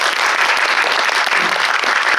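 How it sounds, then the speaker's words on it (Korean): A studio audience gives a sustained burst of applause, dense, loud and even from start to finish with no talk over it. "두 분에게 이 박수 부탁드립니다."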